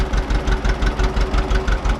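A John Deere tractor engine idles steadily with a rhythmic low chugging knock, close and loud, while hooked to a grain drill on a farm.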